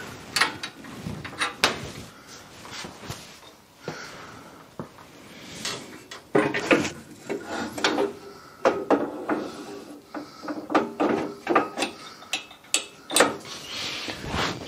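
A hydraulic press tray being raised one notch, a run of faint mechanical clicks, rattles and knocks in an irregular rhythm, close by and with no voice.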